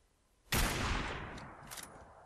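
A radiation weapon fires in the video game Fallout 4, one sudden loud blast that breaks a near-silent start, followed by a long decaying rumble and a fainter second burst.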